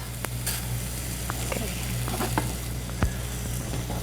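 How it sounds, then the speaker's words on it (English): White rice sautés in a pan with curry, onions and celery, giving a continuous close sizzle broken by intermittent scraping and stirring clicks from the utensil. "And stir that so the rice all gets nicely coated. Don't burn it, just saute it a little bit."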